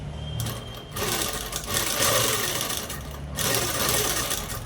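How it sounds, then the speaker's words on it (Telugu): A sewing machine running close and steady, top stitching a frock, with a continuous whirring stitch rhythm and a couple of brief slowdowns. "ఇప్పుడు పై కుట్టు అనేది వేసేసుకున్నాము"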